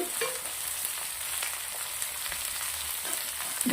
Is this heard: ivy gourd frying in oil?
yes